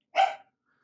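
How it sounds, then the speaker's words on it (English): A single loud, close dog bark, short and sharp, then silence, heard indoors in a home during a wet shave. "Dog's barking."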